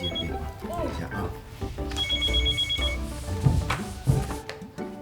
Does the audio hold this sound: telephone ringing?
yes